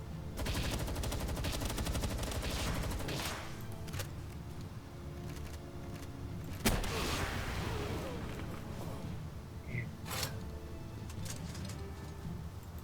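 Rapid machine-gun fire during a Palworld raid rattles in fast repeated bursts, then gives way to isolated heavy shots and a sharp nearby blast, all set against a busy in-game background.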